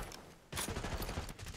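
Gunfire erupts in Call of Duty: Black Ops 6 as a sudden dense burst of rapid shots after a quiet moment, sustained and moderately loud.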